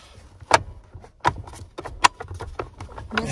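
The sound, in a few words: car seat snapping into place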